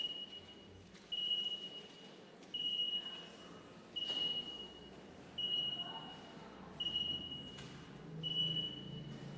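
A fire alarm in a church sacristy, set off by too much incense, emits a steady high-pitched beep that repeats about every one and a half seconds over a quiet, murmuring room.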